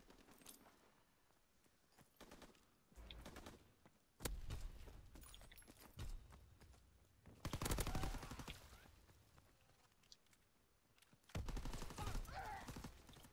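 Bursts of gunfire from a WWII video game battle, several loud volleys spread across the span with quieter gaps between, no talking over them.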